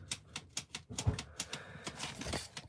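A fidget toy gives a quick run of sharp clicks and taps in an irregular rhythm, quiet and close, with no talk.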